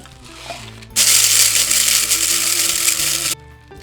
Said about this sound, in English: We're just gonna grind these up in a couple batches here.